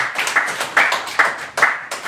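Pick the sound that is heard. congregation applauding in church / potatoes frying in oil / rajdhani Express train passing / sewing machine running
congregation applauding in church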